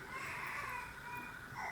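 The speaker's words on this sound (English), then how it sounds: "Maybe you can hear my little guy screaming" A small child screams and cries upstairs, distant and faint, the muffled wailing continuing steadily through the moment.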